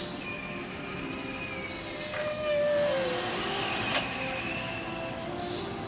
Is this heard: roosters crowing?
no